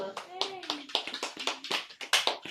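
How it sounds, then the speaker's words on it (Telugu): Hands clap in an irregular burst at a birthday cake cutting, a dozen or so sharp claps close by, mixed with voices talking and calling out over them. "క్లాప్ కొట్టరు."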